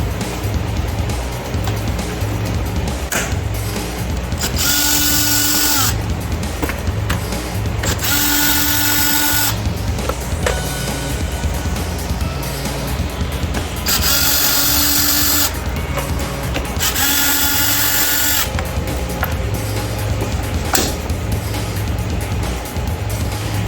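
A drill removing fasteners during a cold air intake install on a 2014–2019 C7 Corvette, heard as loud repeated whirring bursts of a few seconds each, close up, with ratcheting between them.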